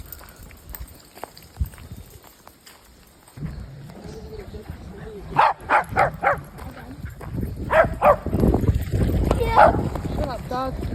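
Several dogs bark in bursts during an outdoor walk at a reservoir, sharp loud woofs clustered in the second half, mixed with a voice talking and shouting over them.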